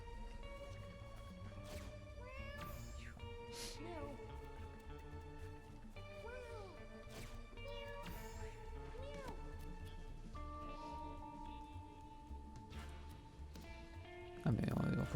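A stray cat in the video game Mewgenics gives repeated short meows, several rising and falling calls spread across a musical game soundtrack, with a brief louder burst near the end.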